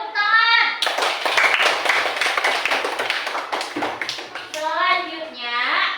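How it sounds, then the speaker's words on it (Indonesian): A classroom of children claps their hands in a fast, loud burst lasting several seconds, with children's voices before and after. "Oke, tepuk tangan."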